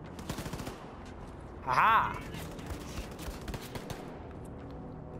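Wolfenstein 2: The New Colossus gunfire: rapid sharp shots crackle in uneven bursts across the clip, with a brief electronic whine in the middle and a person speaking over the shooting.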